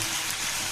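Chopped onions frying in hot oil in a pan for a loitta fish dish give a brief, steady, dense sizzle like fine rain, close and even with no pauses.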